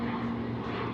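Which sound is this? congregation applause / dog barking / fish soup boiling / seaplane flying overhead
seaplane flying overhead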